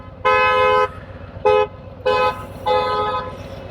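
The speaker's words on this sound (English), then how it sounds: "I don't know why they're honking." Car horns honking in street traffic near a Harley-Davidson Street Glide CVO 2019, four loud separate blasts, some long and some short, over a low engine rumble.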